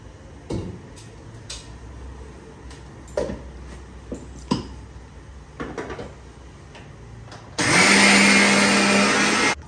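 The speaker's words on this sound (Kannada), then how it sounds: "ಕಾಯಿ ಜೊತೆಗೆ ನೆನೆಸ್ಕೊಂಡಂತ ಅಕ್ಕಿನ ಹಾಕೊಂಡ್ಬಿಟ್ಟು ಇದನ್ನು ನುಣ್ಣಗೆ ರುಬ್ಕೊಳ್ತೀನಿ." Mixer grinder grinding soaked rice with coconut, starting with a few scattered knocks and clicks before the motor kicks in, loud and steady with a high whirring roar that runs to the end.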